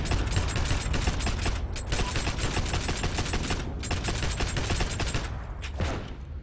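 Rapid bursts of automatic gunfire from an inaccurate gun in the PC shooter game Heroes and Generals, loud and close with short pauses between volleys.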